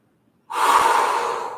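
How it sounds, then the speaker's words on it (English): A single long, steady breath during a yoga-style exercise session, starting abruptly after near silence and holding as a close, even, airy rush for over a second. "Long, steady breath."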